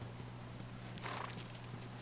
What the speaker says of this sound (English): Oh, you're staying on the horse.